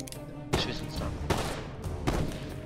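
Gunfire in the action game Incredible Adventures of Van Helsing comes in three loud, rapid bursts of booming shots about a second apart, close and dense, filling the clip.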